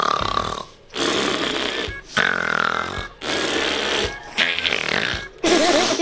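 A person vocally imitates loud, pig-like snoring in a series of about five long, harsh snorts separated by brief pauses, close and loud, with people talking around it.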